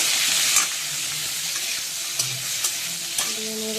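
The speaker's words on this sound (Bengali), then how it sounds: "হালকা আঁচে দিয়ে ভেজে নেবো লাল লাল করে" Cauliflower florets with a little turmeric fry in oil over low heat, a steady soft sizzle with occasional clacks of a spatula stirring the pan, close and unbroken by speech.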